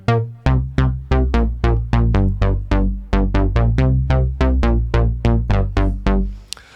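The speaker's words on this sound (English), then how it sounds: "we're gonna start with a bass that sounds like this" Punchy synth bass built on a DRC synthesizer for a remake, a steady rhythmic run of loud, plucky notes with decaying tails, played alone and close.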